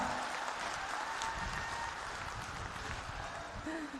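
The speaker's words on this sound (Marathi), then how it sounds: "आपण सर्वजण जोरात टाळ्या वाजून त्यांचं स्वागत करूया" A crowd at a political rally in Shirdi claps loudly and steadily to welcome Priyanka Gandhi, a dense continuous applause lasting throughout, with faint voices mixed underneath.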